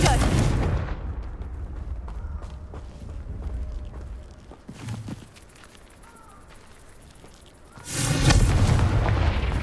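Confringo explosion spell cast in the Hogwarts Legacy video game: a loud booming blast opens, a rumbling lull follows with a smaller burst midway, then another heavy, roaring explosion near the end.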